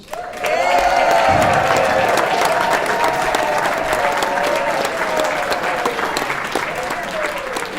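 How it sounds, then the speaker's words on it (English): Loud, sustained applause and cheering from the audience at an amateur musical variety revue, a dense wash of clapping with whoops and shouts that stays strong for several seconds before easing slightly. "now show them how we clap until the performers are off the stage"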